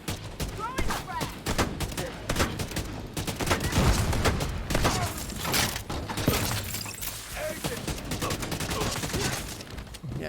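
Heavy combat in the shooter game The Division 2: bursts of gunfire mixed with a frag grenade blast and shattering debris, loud and busy throughout with brief voice fragments in the mix.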